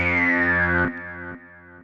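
A BP Synth tone plays with its envelope depth at half setting, giving a buzzy, distorted note whose bright overtone slides downward and then retriggers twice, each time a little quieter.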